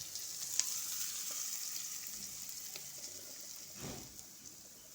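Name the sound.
sautéing ingredients for paniyaram batter in a pan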